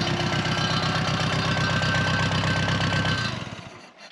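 A four-wheel drive field forklift engine runs steadily up close with a rhythmic idle chug for about three seconds, then winds down and fades as it shuts off.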